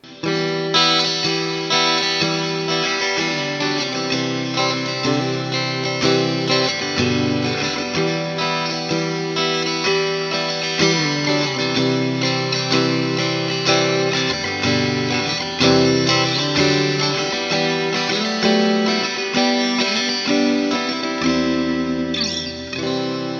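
Vintage V6 HSS electric guitar on its middle pickup, played continuously through effects with chords and melodic lines, loud and sustained throughout with no talking.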